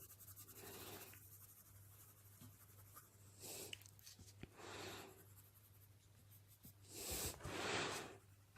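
Polychromos coloured pencils scratch and rub across paper in steady strokes, pressed hard to blend dark colours, with louder bursts of scribbling near the end; close and fairly quiet, no talk.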